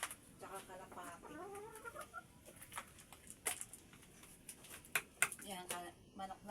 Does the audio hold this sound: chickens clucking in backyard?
yes